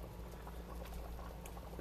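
Chowder bubbling in a pot, a soft continuous patter of boiling with a low steady hum beneath, faint and close, no voices.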